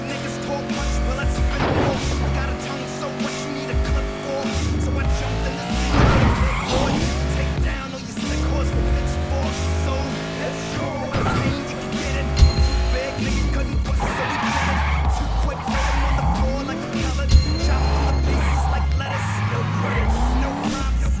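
In a video game, a stolen red super car races along with engine revs rising and falling, repeated tyre squeals and skids, and a couple of sharp knocks, all loud and continuous for about twenty seconds.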